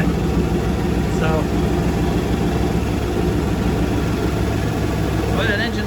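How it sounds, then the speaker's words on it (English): An old boat engine runs steadily during a test, a dense low rumble holding at constant loudness throughout, with brief faint higher chirps near the start and end. "boy, that engine's getting old"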